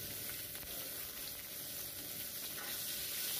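Onions frying in a pan, a soft, continuous sizzle at low level, steady throughout with no voices.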